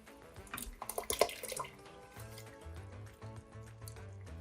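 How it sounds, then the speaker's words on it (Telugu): A cup of water pours into a cooking pot of coconut rice with coconut milk, a short splashing trickle of liquid followed by quieter drips and faint clinks. "అండ్ ఇంకొక కప్ వాటర్ పోస్తున్నాను"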